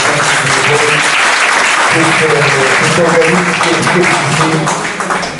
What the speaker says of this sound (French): qu'il faut applaudir très fort